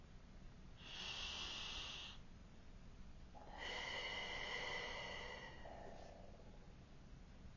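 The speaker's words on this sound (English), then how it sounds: "Take a deep breath with me." A slow, deep breath: a long, airy inhale followed after a short pause by a longer, fuller exhale, close and quiet against low room hiss.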